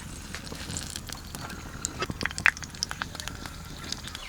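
Mustard oil tempering with bay leaf and dried chili sizzles in a pan, a faint continuous hiss scattered with sharp crackles and pops that cluster around the middle.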